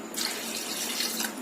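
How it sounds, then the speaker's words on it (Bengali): Water runs steadily from a tap into a pressure cooker pot holding rice, a continuous close splashing stream with no voices. "জল দিয়ে দিলাম"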